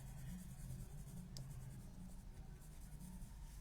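Coloured pencil rubbing across paper while colouring, a soft continuous scratchy shading sound, quiet and close with no voices.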